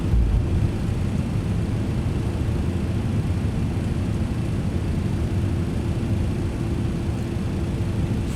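Jet engines of a FedEx MD-11 trijet in a flight simulator roar steadily during the climb after takeoff, a loud, even, broadband rumble with no pauses throughout.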